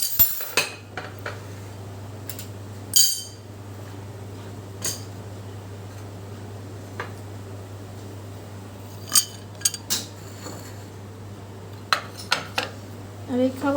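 Kitchen dishes and utensils are tidied away: scattered clinks and clatters of cutlery, plates and glassware at irregular intervals over a steady low hum, with occasional quiet talk.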